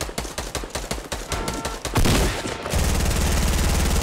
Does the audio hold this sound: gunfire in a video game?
yes